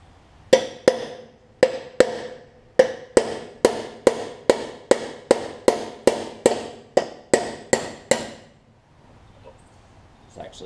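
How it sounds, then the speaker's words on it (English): Sharp metallic hammer strikes ring out one after another on a Craftsman riding mower, about sixteen hits at a fairly steady pace, loud and close, then stop. "I need to get a bigger hammer."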